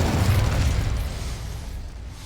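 The Incendio fire spell in Hogwarts Legacy lets off a deep, booming burst that starts loud and fades over about two seconds, with no talk over it.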